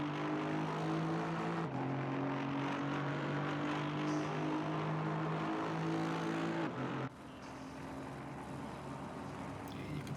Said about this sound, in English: even not in the car, I can hear that Ginetta